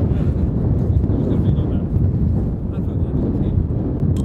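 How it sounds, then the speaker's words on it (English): Strong wind buffets the microphone during an outdoor fashion shoot in Iceland, a loud, low rumbling roar that surges and persists across the whole stretch. "look how windy it is."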